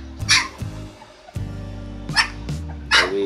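Newborn white Bac Ha village puppy giving several short, high yips and whimpers in quick bursts, fairly close and alone with no talk.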